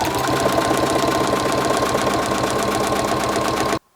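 A sewing machine back-stitches a clear plastic bag with a fast, even mechanical chatter that runs loud and alone before cutting off abruptly.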